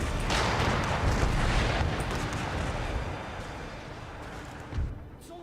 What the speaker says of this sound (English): Their mortars are responding.